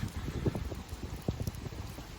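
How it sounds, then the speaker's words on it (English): Rain from Hurricane Milton patters steadily on surfaces around a travel trailer at a campground, a soft, continuous spatter with scattered louder drops. "This rain is definitely going to clean any leaves off."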